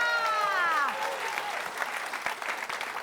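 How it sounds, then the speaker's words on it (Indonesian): A studio audience at a comedy game show claps for all the contestants, the applause rising over a fading spoken voice and continuing steadily. "Kita kasih tepuk tangan dulu dong buat semua peserta."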